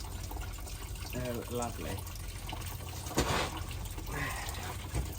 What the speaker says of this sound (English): I'm gonna crack this sump bung and see if water comes out the engine oil now.